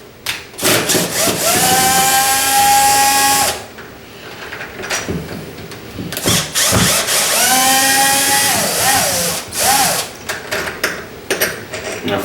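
Power screwdriver backing screws out of an existing door lock mechanism, close and fairly loud, with two whirring bursts that rise in pitch as they run, separated by quieter handling clicks and rattles.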